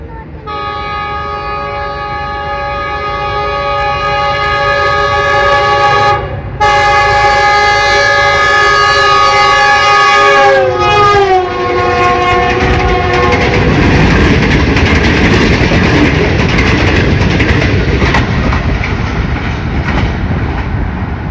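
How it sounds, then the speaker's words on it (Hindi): A Green Line express train runs through a Gujarat railway station at about 101 km/h, its loud horn sounding as a long harmonic blast that bends in pitch as it passes. Rushing wheel and carriage noise follows and stays close and loud. "101 किलोमीटर फ़ी घंटा की रफ्तार से ग्रीन लाइन पास हो गई है"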